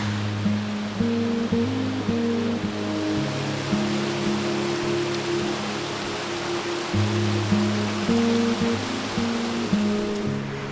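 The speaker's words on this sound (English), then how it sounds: "Leaving the waterfall behind" A waterfall in Nelson Lakes National Park, New Zealand, gives a steady, full rush of falling water that holds through the whole stretch, with tuneful background music playing over it.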